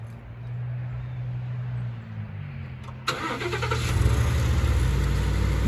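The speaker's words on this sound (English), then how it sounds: "I actually put a remote start on this truck because this from factory did not have a remote start" A pickup truck fitted with an aftermarket remote start cranks and fires up after about three seconds of quiet idle-like hum, then settles into a loud, steady running engine close by with no talking.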